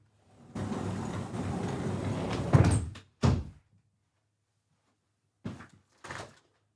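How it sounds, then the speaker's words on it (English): A room door pushed shut, with a shuffling rush of movement, then a solid thunk and a latch click, followed by a couple of faint later knocks in an otherwise quiet room. "let me close my door real quick."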